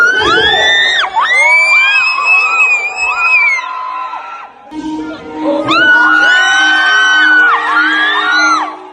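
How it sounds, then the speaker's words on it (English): A crowd at a K-pop idol's fan meet screams and whoops wildly, a dense wall of high shrieks and yells that swells, dips briefly midway, then surges back loud and sustained. "he pumps his fist into the air in a victory position, and the crowd goes wild"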